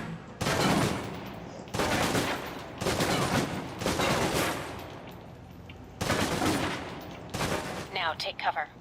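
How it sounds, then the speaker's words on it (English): Submachine gun in the video game Alpha Protocol emptying a full magazine in loud, rapid bursts, about five sustained stretches of automatic fire separated by short pauses. "let's move on to the submachine gun. Now let's empty the clip."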